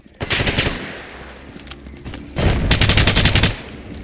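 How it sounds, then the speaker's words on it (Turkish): Heavy automatic gunfire and blasts in the shooter game Radiophobia 3, with a player hit by rocket launcher fire: two loud, close, rapid rattling bursts separated by a quieter rumbling pause, and no speech. "Abi bir yerden roket atar yiyoruz."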